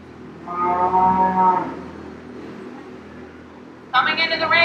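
A beef cow with her calf lows at a county fair show ring, giving a long deep moo, then a louder higher call moments later, over a hum of crowd and show-ring background.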